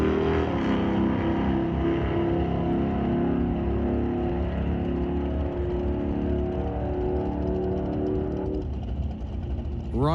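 Drag race cars at an NHRA Northwest National Open Series event at Mission Raceway, including a 1971 Chevy Chevelle Malibu, droning engine roar that holds steady and then fades as the cars pull away.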